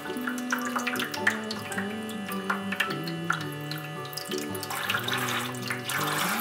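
Water trickles and splashes into a small toy sink as carrots are washed, a light, continuous running flow with drips, close and fairly quiet.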